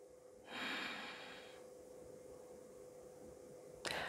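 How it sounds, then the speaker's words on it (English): A long, audible exhale through the nose during a seated yoga stretch, starting strongly then trailing off, followed by a sharp short inhale at the end, close and quiet with no talking. "Breathing here."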